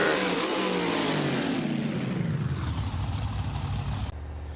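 Monster truck engine in the BeamNG Drive video game at a custom truck world finals, revving loudly and close up, the pitch falling as it winds down before an abrupt cut.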